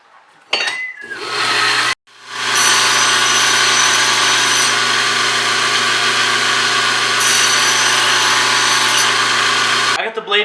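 A belt grinder polishes a forged Viking axe blade at 220 grit, giving a loud, continuous abrasive whirr with a tonal motor hum. It starts after a brief pause and runs steadily for about eight seconds before stopping.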